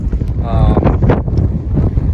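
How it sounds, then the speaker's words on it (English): Strong, gusty wind buffets the microphone during a ski outing around Acadia, a loud, rumbling roar, with a voice talking over it. "as you might be able to hear, it's pretty windy"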